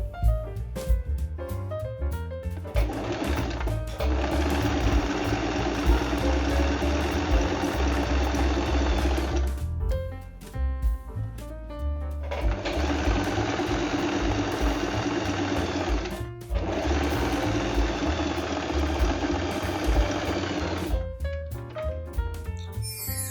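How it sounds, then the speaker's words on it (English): A Singer 8280 sewing machine runs a zig-zag stitch along a fabric edge, its steady mechanical whir continuing in three long bursts with short pauses between, loud and close with no voices. "place your fabric under your overlock foot just like this. And let's get sewing."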